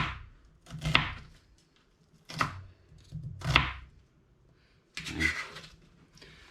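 A knife chops vegetables into small pieces for chicken dumpling soup, making four or five sharp, separate thuds on a cutting board with quiet gaps between them.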